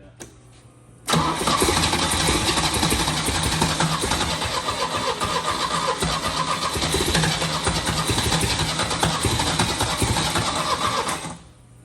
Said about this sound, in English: I don't want to fry the starter. It's lit now.